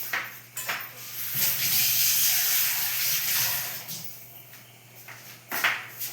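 Water splashes into a pot on the stove in short bursts while Bengali-style chickpea ghugni cooks at home, with faint household clatter around it.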